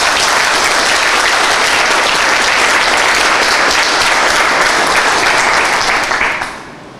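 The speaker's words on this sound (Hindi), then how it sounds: "तो आप लोग एक बार अपने ईमानदारी के लिए अपने ऊपर ताली बजाइए।" An audience of civil engineers at a Hindi-language lecture breaks into dense, loud, continuous clapping that carries evenly, then fades out over the final half-second.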